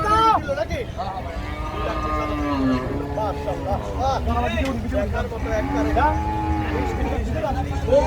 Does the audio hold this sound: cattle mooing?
yes